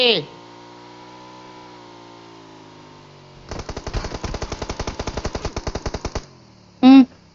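Gunfire in the video game PUBG: a rapid automatic burst of about twenty evenly spaced shots, loud and close, followed by one more sharp report, with a steady background hum and no talking over it.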